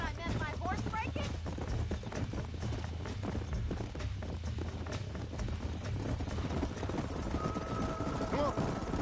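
Galloping horses in the Western video game Red Dead Redemption, a herd being driven toward a narrowing canyon on a ranch, hooves clip-clopping steadily beneath game music and ambient effects, with a voice speaking over the action.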